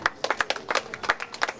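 Crowd clapping at the inauguration of a water plant at a women's college, a brief scattered patter of hands, moderately faint and without speech.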